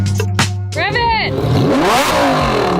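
A Lamborghini Huracán supercar engine revs hard, with a rising then falling engine sweep that blips up and settles into a loud, sustained roar. Voices speak briefly at the start.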